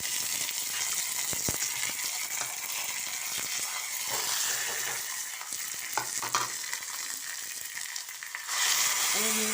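Cumin, urad dal and mustard seeds for a South Indian tempering sizzle steadily in hot oil, with a dense crackling hiss, a few sharp pops and occasional stirring, growing briefly louder near the end.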